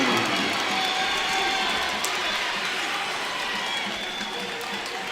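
Basketball crowd at a high school game cheers and applauds after a layup and foul, a dense, steady roar from the stands with the student section on its feet, holding loud throughout.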